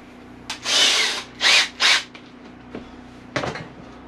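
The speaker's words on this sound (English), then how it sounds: "So now I gotta drill a hole in there" A power drill whirs in three short bursts, the second and third close together, drilling a hole for a wood stove installation, followed later by a brief clatter; no voices.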